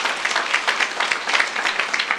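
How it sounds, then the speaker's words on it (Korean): A church youth-group congregation claps together during a sermon, a dense, steady wash of many hands at moderate level with no voice over it. "빨리 박수쳐."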